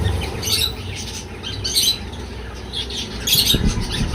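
Pet lovebirds and cockatiels at a bird sale squawk in three loud, harsh bursts spaced about a second apart, close to the microphone over a steady background hum.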